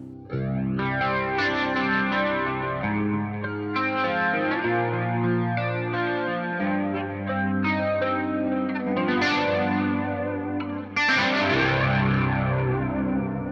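Electric guitar through a Deluxe Electric Mistress flanger pedal set at noon, with chorus and slight grit, a flowing line of notes and chords, brighter bursts near the end.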